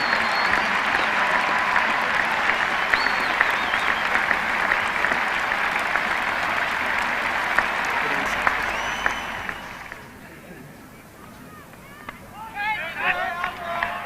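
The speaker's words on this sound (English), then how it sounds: "And they're applauding for a catch" Broad, sustained applause from a cricket ground crowd after a catch, heard at a distance for about ten seconds before fading, followed by a commentator speaking.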